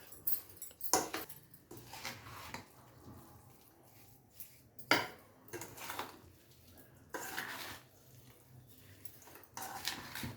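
Amla pachadi is mixed in a pot with a utensil, producing intermittent clinks and scrapes of metal against the vessel in irregular bursts between quieter pauses.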